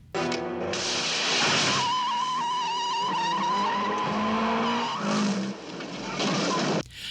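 A road chase from the James Bond film The Spy Who Loved Me: tires squeal in long, wavering shrieks over revving car engines, loud and sustained, then cut off abruptly near the end.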